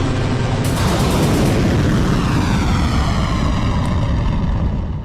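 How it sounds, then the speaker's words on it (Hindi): A missile launch roars out as one loud, continuous rushing blast that starts abruptly and holds steady for several seconds, with a broad low rumble under a hissing upper roar and no voices. "सन्नाटे को चीरती मिसाइल का शोर हुआ।"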